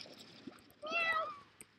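Slimes meowing in the Slime Rancher video game: a soft, cat-like meow call with a rising and falling pitch, heard alone over light background ambience, with a faint splash or patter just before it.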